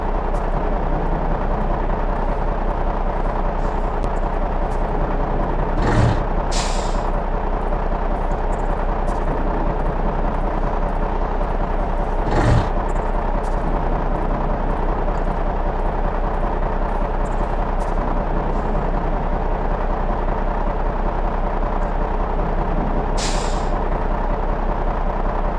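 A truck moving in Hitman 2: Silent Assassin gives a steady, loud, continuous low engine drone throughout. A few short sharp hiss-like bursts break through at intervals, and no one speaks.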